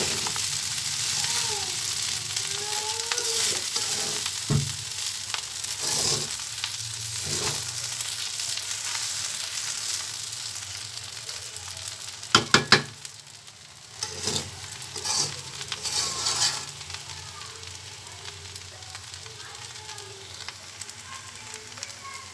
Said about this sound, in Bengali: দেখুন বন্ধুরা, রাইসটা আমার ভাজা হয়ে গিয়েছে।